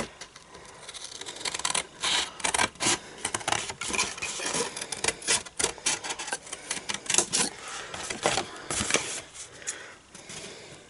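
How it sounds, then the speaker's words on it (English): Paper is cut away from stamped cardstock for a small Christmas gift bag, a close series of irregular crisp snips and scraping rubs that come in quick uneven bursts. "I'm going to cut away all of this, 1, 2 and 3."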